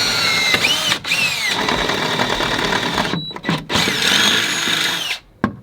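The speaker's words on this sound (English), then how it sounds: "Gonna go ahead and drill some holes here and here." A power drill bores mounting holes into the engine bay of a VW Vanagon Westfalia, a loud close high-pitched whine that runs in sustained bursts, cut by brief stops and restarts.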